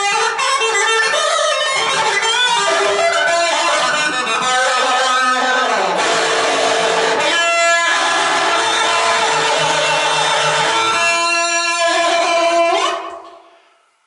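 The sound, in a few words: guitar with cry and flanger modulation effects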